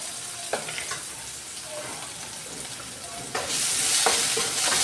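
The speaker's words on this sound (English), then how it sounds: "Now we're gonna go in here with our onion and garlic" Chopped onion and garlic hitting hot oil in a pan over high heat, a close crackling sizzle with stirring scrapes that swells louder toward the end, with no talk.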